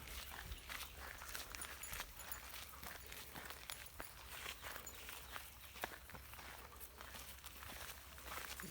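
Bullmastiff dog walking on a morning outing, its paws padding in a steady, soft, irregular patter of footsteps against continuous low outdoor rumble.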